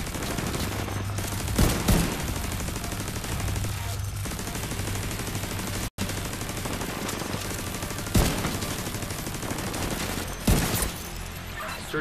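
Automated turret fire in the shooter game The Division 2, a sustained rapid barrage of gunshots with several louder, sharper bursts punching through the continuous fire.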